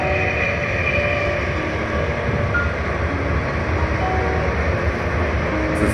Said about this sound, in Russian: А вот товарняк идет.